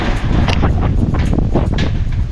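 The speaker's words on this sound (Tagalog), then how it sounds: "Malakas yung hangin mga kasani," Strong wind blows in steady, loud gusts that buffet the microphone, roaring continuously with no voices heard.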